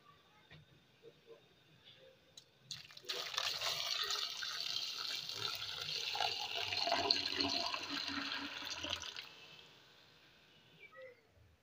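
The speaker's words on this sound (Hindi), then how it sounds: "पानी ऐड करेंगे।" Water poured into a pot of soaked chickpeas, a dense rushing splash that starts suddenly after a few quiet seconds, runs steadily for about eight seconds, then tapers off.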